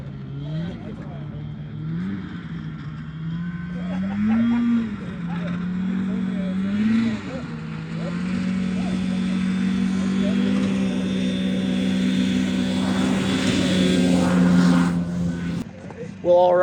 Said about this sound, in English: We got majority of the sleds fired up for the morning.